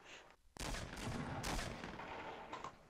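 Rapid bursts of gunfire from the video game Fortnite crack loudly in several quick clusters, close and sharp, over a busy game background.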